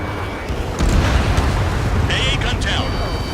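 An anti-aircraft gun is destroyed in Ace Combat 7, a deep rumbling explosion that swells loudly under continuous jet engine roar, with radio-like chatter tones briefly heard over the din.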